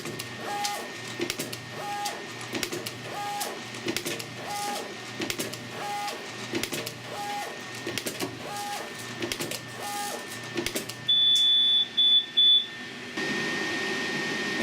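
A Hiker 101am web cutter with heater works through repeated cut cycles, a rhythmic mechanical whir and clack recurring about every second, then a series of electronic beeps and a steady hum at the end.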